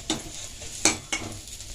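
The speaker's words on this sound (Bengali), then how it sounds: "এরকম ভাবে ঘুরিয়ে ঘুরিয়ে লাল লাল করে ভেজে নিতে হবে 4-5টা।" Pieces of raw jackfruit fry in a pan with a soft, faint sizzle, broken by three short scraping stirs of a utensil against the pan, fairly close and with no talking.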